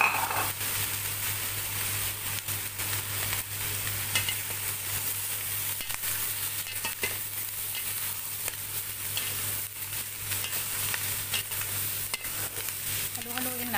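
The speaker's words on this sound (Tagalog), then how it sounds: "Halu-haluin natin guys para sabay-sabay silang maluto." Cabbage being stir-fried for pancit canton with chicken and oyster sauce, a steady close sizzle running the whole time with scraping and clatter of the spatula tossing the shreds, no talk.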